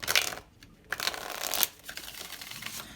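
A deck of tarot cards being shuffled close up, quick riffling bursts broken by short pauses, with papery flicks and soft slaps of cards.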